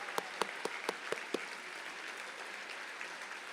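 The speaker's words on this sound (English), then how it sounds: "Let's give them all a round of applause." Six sharp, evenly spaced handclaps ring out near the start of a university audience's tribute to former Freedom Riders, then fade into a quiet room murmur; faint and sparse rather than a full ovation.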